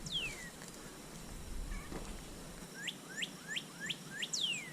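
Several sharp bird chirps in a quick series in a backyard vegetable garden, fairly close, over a quiet outdoor background, with a lower rising call near the start.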